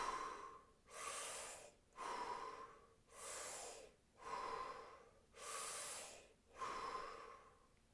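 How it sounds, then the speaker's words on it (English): Rapid hyperventilating breathwork, a person drawing air in through the mouth: seven forceful, breathy rushes in a steady rhythm about once a second, close and moderately loud, with no talking. "So you're breathing in through your mouth."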